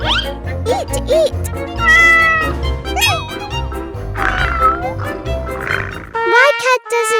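Meows from a cat in a kids' pretend-play scene, several short pitched cries over bright, bouncy background music, with voices speaking in between.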